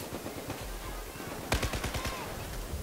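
Bursts of automatic gunfire from a Battlefield 4 firefight, with a dense rapid volley starting midway and rattling on over steady background battle noise.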